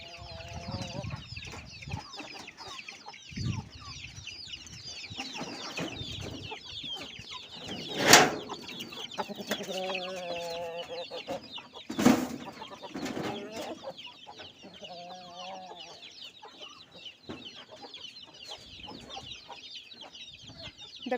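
Free-range country chickens cluck steadily on a Tamil farm, with a couple of louder sharp squawks standing out among the continuous background chatter of the flock; a voice speaks briefly at times.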